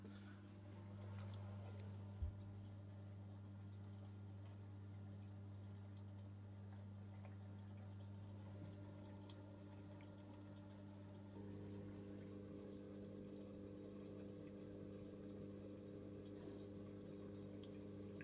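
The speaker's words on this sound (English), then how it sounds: "we're now actually starting to fill up for the main wash." An Electra 17051 washing machine fills with water for its main wash after the pre-wash on a Cottons 95 cycle, a steady low hum and water rush that holds throughout, with a brief click early on and a slight shift in tone partway.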